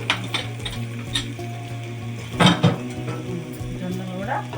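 Onions and sorghum fry in a pan, a steady sizzle broken by scraping stirs and a couple of sharper utensil knocks, with a low hum running underneath throughout.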